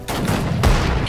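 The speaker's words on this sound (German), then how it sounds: "Fire the gun!" Battlefield gunfire in the WWII strategy game Sudden Strike 4 at Dunkirk, a continuous loud rattle of rifle and machine-gun fire with a heavy booming shot landing midway, close and dense.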